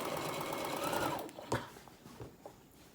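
A sewing machine runs in a steady fast whir while stitching fabric for a tote bag, then slows and stops, leaving a few soft clicks and handling sounds.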